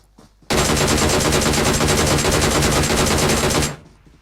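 Sustained automatic gunfire in PUBG Mobile, a loud unbroken stream of rapid shots lasting about three seconds before stopping abruptly.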